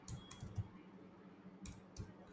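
Typing on a computer keyboard, a few quick irregular bursts of key clicks close by with short pauses between them, no voices.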